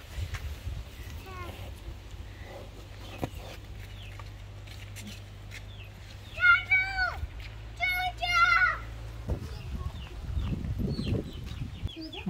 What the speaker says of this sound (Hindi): मुर्गी का बच्चा आ गया यहाँ पे,